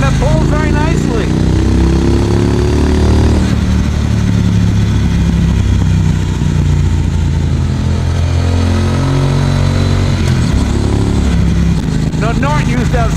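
A 2018 Triumph Bonneville Speedmaster motorcycle engine rumbles steadily with a rise in revs early on, while someone talks over it almost throughout.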